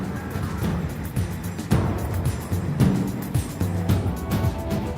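A 2018 Range Rover Velar drives out of the countryside back onto a road, its engine a steady close rumble with tyre and road noise rising in small surges.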